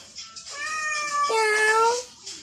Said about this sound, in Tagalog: May pusa tayo.